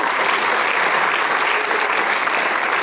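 An audience in a high school hall applauds volunteers at a stage mentalism show, a dense, even wash of clapping throughout with no speech.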